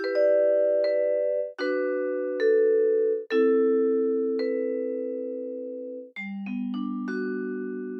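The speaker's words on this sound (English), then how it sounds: "Now, I played mine on the vibraphone" Vibraphone struck with mallets, playing a slow sequence of ringing chords and single notes that sustain and decay smoothly, with a few quicker strikes near the end, played alone and close.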